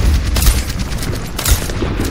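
Rapid gunfire bursts in an online team shooter match, with repeated sharp shots and booms at steady loudness throughout, fairly close and dense.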